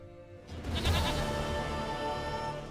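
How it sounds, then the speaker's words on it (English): Goat bleating in The Witcher 3: Wild Hunt, one long wavering bleat that starts after a brief pause and carries on steadily, close and clear with no talk. "Goat of mine, dearest, sweetest goat."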